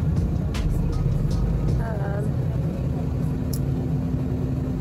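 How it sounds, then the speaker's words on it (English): A small bus drives toward a ski mountain, its engine giving a steady low rumble with a few faint high beeps and tones on top. "we're on the little bus to go to the mountain"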